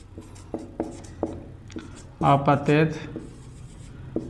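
Marker or chalk strokes tap and scrape across a board in a physics lesson, a series of short, distinct marks, with a teacher talking in the middle.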